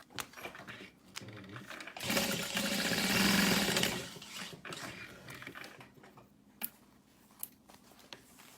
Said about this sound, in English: Sew those together.